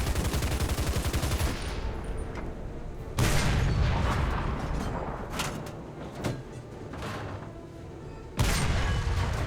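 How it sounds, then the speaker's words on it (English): Heavy tank cannon and machine-gun fire in the War Thunder video game, with dense, continuous rattling bursts and several loud booming shots layered throughout, close and intense with no talking. "Yet again, I am shooting the hell out of his main gun."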